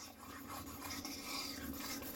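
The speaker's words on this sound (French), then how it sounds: "on n'a pas besoin de fouetter, donc on va juste mélanger." Caesar salad dressing with Parmesan gets stirred in a bowl, giving a faint, continuous scraping and rasping as the utensil rubs around the dish, with no talk over it.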